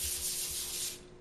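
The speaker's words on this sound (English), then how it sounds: "spray a little bit of non-stick spray on that one" Non-stick cooking spray hisses from a can onto foil-lined pans in one close, steady burst that tapers off near the end.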